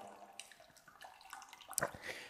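Water trickles and drips quietly as liquid drains from steeped brewing grains into a brew pot, soft and close, with a slightly louder splash near the end.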